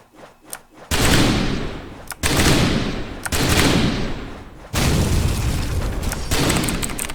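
House of the Dead Overkill arcade gunfire, played with a Sinden light gun, bursts out in loud, sustained volleys separated by brief gaps, booming blasts filling the space with almost no pause.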